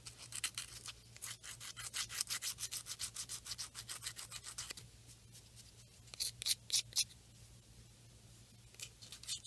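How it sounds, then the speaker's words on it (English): Air dry clay being sanded by hand with sandpaper or a nail file, heard as quick rhythmic scratchy rubbing strokes up close, then a short pause and a few sparser strokes over a faint steady hum. "Just you can use sandpaper or nail file just as well."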